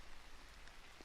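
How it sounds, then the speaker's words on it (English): Steady broadband patter of rain falling on leaves, a dense, even hiss with small drop ticks throughout, fairly faint and continuous with no voices. "It's the sound of rain falling on leaves."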